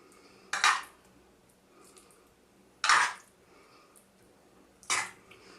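Meat sauce is spooned onto layered eggplant slices while building a moussaka, giving three short, scraping clinks of a spoon against a pan or dish, spaced about two seconds apart and heard close up in a quiet kitchen.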